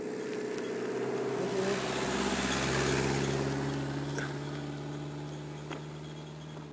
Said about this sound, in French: on va attendre la voiture qui passe